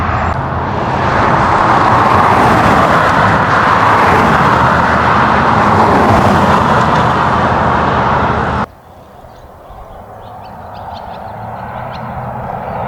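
Traffic on a major road near the ghost town of Thistle, Utah: a loud, broad roar of passing vehicles dominates for several seconds, then cuts abruptly to a quieter distant hum with faint bird calls.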